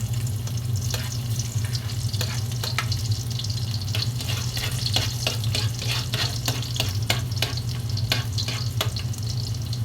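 Garlic fries in a pan for tinola, a steady loud sizzle with a low hum beneath and repeated scraping stirs and clinks throughout, no voices.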